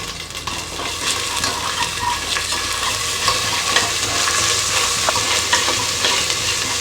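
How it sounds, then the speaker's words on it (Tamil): Ginger garlic paste with salt frying in a pan, a loud, steady, close crackling sizzle that keeps going without a break and has no talk over it. "இஞ்சி பூண்டு பேஸ்ட் கொஞ்சம் வதங்கியாச்சு"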